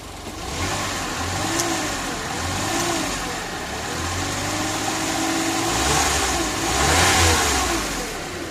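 A turbocharged Suzuki DA64W engine runs nearby and is revved in repeated swells, rising and falling in pitch several times over a low idle.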